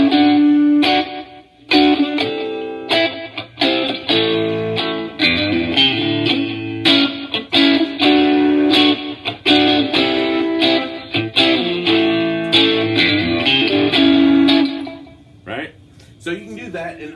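Electric guitar played through the effects channel of a Fender Princeton 650 amp, a loud strummed and picked passage with a processed, driven tone that rings out continuously before fading at the end.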